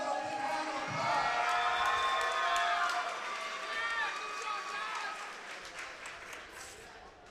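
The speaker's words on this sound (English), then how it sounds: "Let's give him another big round of applause." An audience at a kickboxing event claps and cheers after a fight, a steady wash of applause and whoops that swells and then gradually thins.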